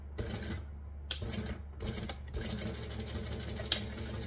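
Sewing machine top stitching fabric, a steady mechanical whir running in short bursts with brief pauses between stitching runs, close and alone.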